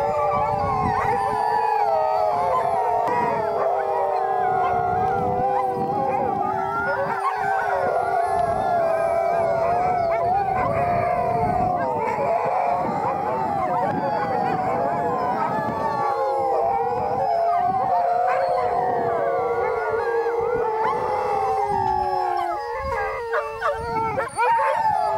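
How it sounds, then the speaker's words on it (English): Sled dogs on an Arctic expedition toward the North Pole howl together in the morning, a loud, continuous chorus of overlapping wavering howls with occasional yips close by, lasting the whole stretch. "Every morning we've been serenaded by these dogs."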